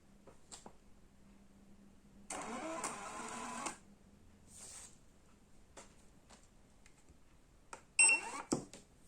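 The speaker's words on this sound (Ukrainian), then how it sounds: "Ось напечатали нам такий текст." A mini Bluetooth printer prints a line of text in one steady mechanical whir lasting about a second and a half, set against quiet surroundings with a few faint clicks before and after.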